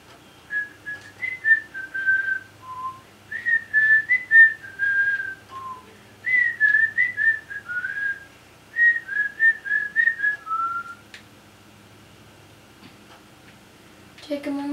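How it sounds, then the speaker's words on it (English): A person whistling a lively melody up close, loud and clear, in several phrases separated by short pauses, ending with a brief burst of noise. "I can't whistle quietly."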